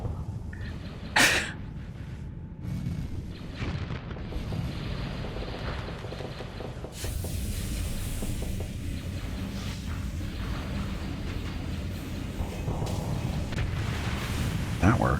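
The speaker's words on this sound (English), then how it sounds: "Now he's using missiles." Missiles explode in Starsector space combat, played with Nexerelin and Star Wars mods: continuous low rumbling booms and dull blasts roll under steady game noise, with one sharp bright burst early on, all moderately loud and layered.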